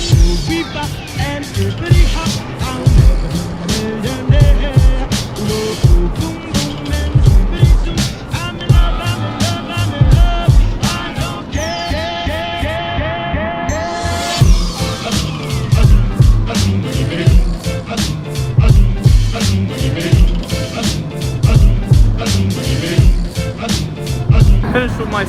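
The TMNT Shell Racer ride at Nickelodeon Universe NJ clatters and rumbles with rapid rhythmic rattling and sweeping mechanical whines, loud and close throughout, with crowd noise and talking mixed in.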